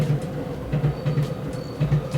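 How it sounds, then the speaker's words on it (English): Train passing overhead through a hotel built beneath the tracks near Akihabara, Tokyo, heard indoors as a steady low rumble with rhythmic wheel thumps repeating across the span, moderately loud with no voices. "you can hear the train going every like 5 minutes or so."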